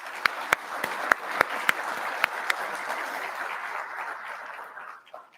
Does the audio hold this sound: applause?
yes